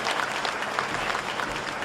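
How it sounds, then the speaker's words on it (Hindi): Applause from an audience at a Hindi kavi sammelan poetry gathering, a steady dense clatter of many hands clapping close by, filling the whole short moment without a break. "जोरदार तालियों से"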